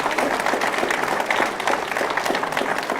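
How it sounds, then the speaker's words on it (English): A rally crowd in Saskatoon gives the campus club a round of applause, with loud, dense clapping that pulses unevenly throughout and a few scattered voices mixed in. "Please give our campus club a round of applause."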